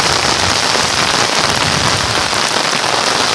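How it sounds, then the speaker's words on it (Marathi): Heavy monsoon rain pours down in Konkan during rice planting season, a loud, dense, unbroken hiss of drops hitting surfaces close by with no voices. "पाऊस पण जोरात पडतोय बघा."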